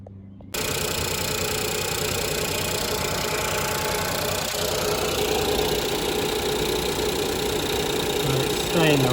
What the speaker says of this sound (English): run the car